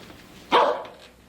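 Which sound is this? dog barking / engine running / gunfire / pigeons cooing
dog barking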